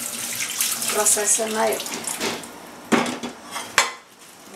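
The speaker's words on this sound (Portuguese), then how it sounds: "Vou lavar direitinho com a parte amarela." A Polishop iChef Shark Series pan is washed under a running kitchen tap, with a continuous water rush, scrubbing and sharp metallic clanks and knocks. A person speaks briefly.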